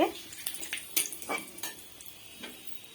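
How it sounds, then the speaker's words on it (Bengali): A single bay leaf fries in a pan of hot oil with a few whole spices, giving soft crackles and clinks close by, with quiet pauses between them. "আর নিয়ে নেব তেজপাতা একটা। এটা আমি ভালো মতন আগে ভেজে নেব।"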